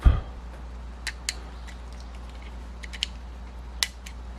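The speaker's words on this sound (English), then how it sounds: "clips to push up, keeping pressure on them so they will all pop up" Small plastic button clips on a BMW start/stop and M1/M2 button are pushed up and pop free, giving a few faint, sharp clicks and snaps spaced irregularly over a quiet background.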